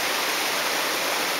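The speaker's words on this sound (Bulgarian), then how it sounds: "И надолу в реката тече вода." Water rushing steadily in the river below the Manastirska hydropower dam, a constant broadband roar with no breaks, fairly near and filling the scene alone.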